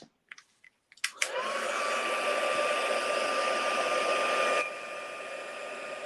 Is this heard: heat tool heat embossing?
yes